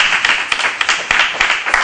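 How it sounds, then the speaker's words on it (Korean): A church congregation claps together in a steady, lively burst of close, bright hand claps lasting a couple of seconds, with no voices heard. "박수를 여러분."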